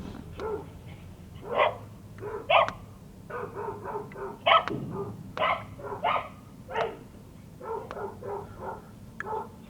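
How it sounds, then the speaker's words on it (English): A dog barks repeatedly in short irregular bursts, close and fairly loud, against a low steady engine hum, with other dogs nearby. "You did not bring this damn dog up here."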